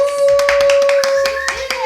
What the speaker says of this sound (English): Can we give her a round of applause, live audience?